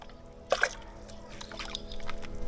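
Water poured onto pool chemicals, a short splashing gush followed by faint dribbling and fizzing, close and quiet, with no voices.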